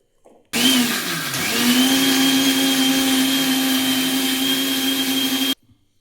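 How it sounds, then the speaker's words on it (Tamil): A mixer grinder whirs at a steady high pitch for about five seconds, grinding meat with coriander, green chillies and shallots, close and loud, starting and stopping abruptly, with no voices. "அதே மிக்சி ஜாரில் மல்லித்தலை மூணு பச்சை மிளகாய் சின்ன வெங்காயம் இது எல்லாத்தையும் போட்டு இப்போ அரைச்சிட்டு வந்துடலாம்"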